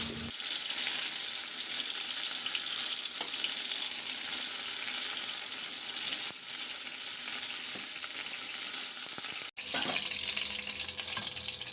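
Chicken pieces for afritada fry in oil in a pan, giving a loud, steady close-up sizzle that runs nearly throughout, with a brief break near the end before the frying resumes.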